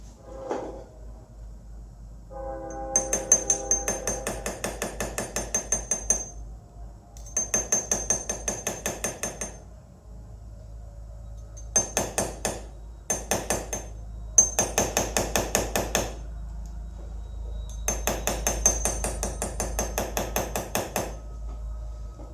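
A hammer taps a chasing tool to retrace a rose design in steel, producing rapid, steady bursts of close metallic ticks separated by short pauses.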